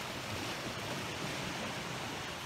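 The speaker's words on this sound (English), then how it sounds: "And listen to that water roar when I said that." Roaring water with waves, a continuous faint broadband rush of flowing water with no other sounds.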